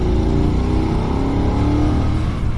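A BMW F900R motorcycle engine pulls hard and steadily in fourth gear from 2,500 rpm, its deep, throbbing twin-cylinder growl rising under load, loud and close.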